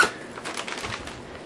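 A dollar store bag packed flat with wipes and camping gear gets zipped shut, a short close rasping zip lasting about a second.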